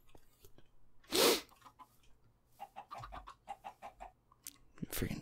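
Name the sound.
chickens clucking in the video game Minecraft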